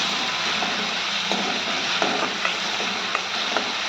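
Green chili thecha sautéing in a pan, a steady soft sizzle and crackle with faint scraping stirs, close and even throughout, no talk.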